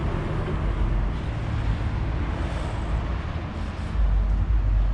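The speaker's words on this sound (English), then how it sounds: "you're gonna hear traffic noise and people driving down the street" A steady, moderately loud rumble of street traffic as cars drive past, a continuous broadband wash with slight swells and no one speaking.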